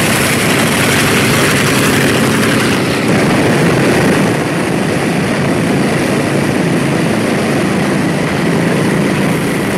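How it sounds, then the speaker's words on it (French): An Air Haïti airplane sits on the runway getting ready for takeoff, its engines giving a loud, steady, broadband roar with a deep rumble that holds for the whole stretch, with no voices. "L'avion vient d'effectuer le mouvement de demi-tour que vous savez, et il se prépare maintenant à partir."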